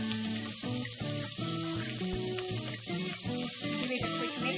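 Onions hit hot oil with mustard seeds in a pan, giving a steady, close sizzle that runs under tuneful background music throughout.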